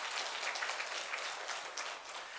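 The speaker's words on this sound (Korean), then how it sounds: "우리 박수로 환영하도록 하겠습니다." A church congregation claps in welcome for arriving guests, a dense, even patter of hands that sounds faint and somewhat distant and carries on steadily without voices.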